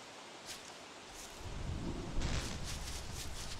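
Rain hisses steadily in Don't Starve Together, then a low rolling thunder rumble swells in and lingers under a louder downpour, fairly faint overall with no speech.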